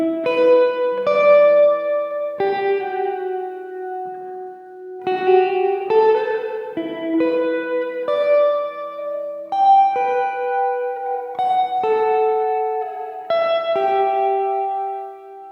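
Sustained electric guitar chords through a Behringer DR600 at maximum reverb time ring out one after another, each trailing into a long, washy hall reverb with a slightly metallic, spring-like shimmer.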